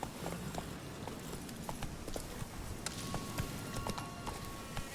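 Roach the horse's hooves in The Witcher 3, a steady clip-clop of hoofbeats at an even walking pace, fairly faint and close, over a continuous low outdoor ambience.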